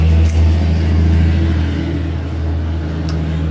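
A loud truck rumbles steadily close by, its deep low engine drone holding strong throughout with a slight swell as it passes.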